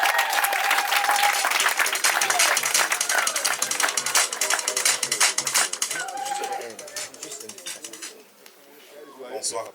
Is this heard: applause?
yes